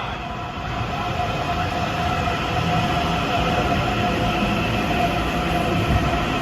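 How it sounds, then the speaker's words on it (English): A Long Island Rail Road commuter train arriving at Grand Central rumbles steadily with a low roar and faint high whine, running continuously and fairly close throughout. "Here comes a train arriving from Jamaica."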